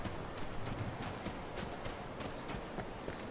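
In the video game Skyrim, a horse's hooves clip-clop in a quiet, steady walking rhythm close by, with no talk over them.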